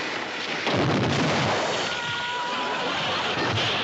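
A cannon fires at a frontier fort during an attack in the F Troop TV comedy. The blast comes as a loud, sustained booming rumble that fills the whole moment, with a crackling, thunderous tail.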